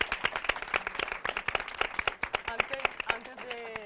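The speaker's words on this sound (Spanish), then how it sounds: "Otro aplauso para ellas" Audience applause at a talk on LGBT representation in film and television, a brisk round of close, dense clapping with voices talking and calling out over it.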